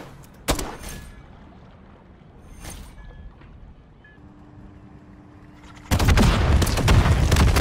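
Gunfire in Modern Warfare III on the Sub Base map: two isolated sharp shots a couple of seconds apart, then a loud sustained stream of automatic fire at the end, with faint ambient noise between.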